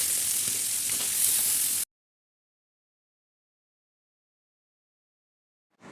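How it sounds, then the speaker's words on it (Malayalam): Masala-coated fish sizzles in hot oil with curry leaves, a loud bright hiss for under two seconds before an abrupt cut to silence, then a brief return of the sizzle at the very end. "മീൻ പൊരിക്കാൻ നിൽക്കുകയാണ്"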